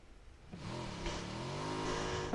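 Motorbike engine in PUBG starting up and revving, a rising, warbling buzz that climbs in pitch and grows louder over a couple of seconds, heard close.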